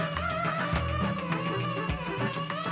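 A softly blown, processed trumpet in a song, a breathy sustained tone woven through the full band mix with steady bass and percussion, playing continuously at an even level.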